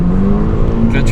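An Audi TT MK2 8J 2.0 TFSI 200 hp held on the brake at full throttle, engine droning steadily around a limited rev point, loud and close with a hint of tire noise at the end.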